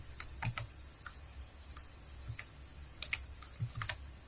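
Computer keyboard typing while entering skills into an online freelance gig profile: brisk, uneven clusters of crisp key clicks, close and fairly clear, with no talking.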